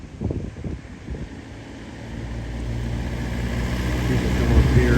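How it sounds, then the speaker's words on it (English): Wind gusting across a hilltop in Rizal, Philippines, a broad steady rush that swells and grows louder toward the end, with brief low thumps early on. "Like I say, the wind is blowing"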